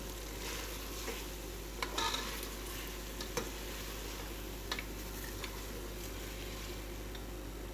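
Aloo gobhi frying in desi ghee in a pot, a steady soft sizzle with occasional faint clicks and stirring taps throughout, no voices.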